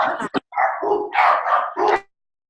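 A dog barks several times in quick, close, loud bursts, the yaps running together over about two seconds during an online meeting call.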